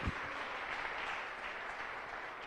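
A church congregation applauds during a Spanish-language sermon, a dense, even wash of many hands clapping at once that holds steady for the whole stretch, moderately loud and without voices.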